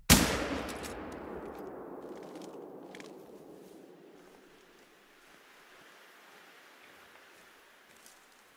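A single sharp rifle shot in the hunting game theHunter: Call of the Wild cracks loudly, then a long rumbling echo fades slowly into near silence.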